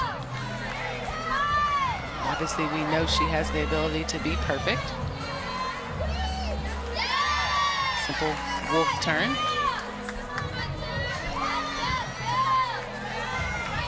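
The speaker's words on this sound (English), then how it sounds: "And you hear the reaction from this sellout crowd." A sellout arena crowd at a college gymnastics meet between Mizzou and Auburn cheers and shouts continuously, with high-pitched whoops and swells of applause under steady commentator talk.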